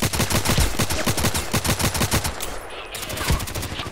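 Rapid automatic gunfire in the Contract Wars shooter game on the Lighthouse map, a loud, close, evenly spaced stream of shots that breaks off briefly and then resumes.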